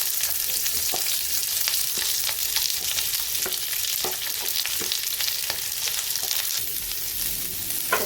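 Onion fries in hot oil in a pan alongside fried paneer, giving a steady, loud, close sizzle with scattered crackling pops throughout, no voices.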